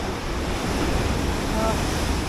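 Ocean surf at the seaside in Side, Turkey, by a small hotel: a continuous, close roar of breaking and washing waves with heavy wind buffeting the microphone.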